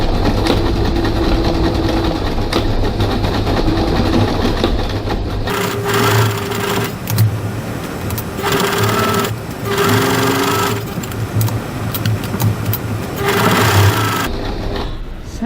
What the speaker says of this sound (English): I'm going to back stitch a couple of times here at the top because it's a high stress point